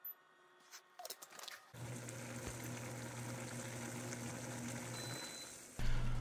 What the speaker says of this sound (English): On the stovetop, I brought the water to a boil.